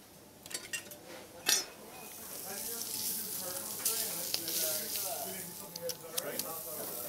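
Beef loin and fillet sizzle in a hot pan, a steady hiss with a few clinks of utensils and metal over a noisy kitchen, in a live cooking class.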